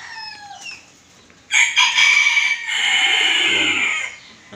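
Bantam chickens crowing and clucking in a flock, a nearby rooster's loud crow followed by overlapping raucous calls and squawks, close and busy.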